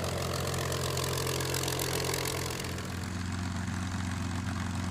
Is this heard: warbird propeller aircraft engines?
yes